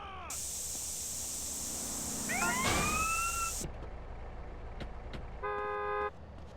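Car in the GTA video game, with a long piercing horn-like tone, a couple of rising squeals in the middle, then a short buzzy horn burst near the end over a low engine rumble.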